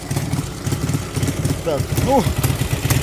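A Ural MG 350 trike fitted with a Dnepr engine idles cold with a low, steady putter, while someone talks briefly over it.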